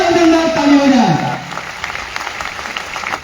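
An audience at a motivational speaking event bursts into applause for a speaker, a dense wash of clapping that starts under a loud amplified voice and carries on steadily after the voice drops away.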